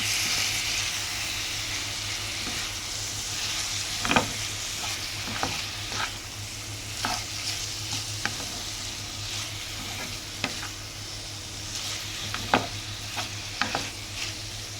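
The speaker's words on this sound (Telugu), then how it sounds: "ఇప్పుడు టమాటా కొత్తిమీర అనేది వేసేసుకుందాం. ఇప్పుడు దీన్ని కలిపేసుకుందాం." A spoon scrapes and stirs tomato and coriander frying in a pan, a soft continuous sizzle broken by irregular clinks and scrapes of utensil against metal, with a low steady hum underneath and nobody speaking.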